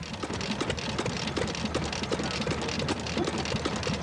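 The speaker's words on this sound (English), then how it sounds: "The petrol paraffin engine has a low tension ignition system with a Sumpter gear driven magneto." An old petrol paraffin farm engine imported from the United States, with a low tension ignition and gear driven magneto, runs steadily nearby with a rapid, even chugging rhythm throughout.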